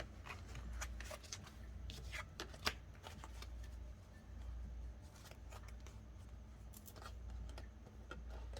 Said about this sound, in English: I'm gonna just shuffle a little bit more.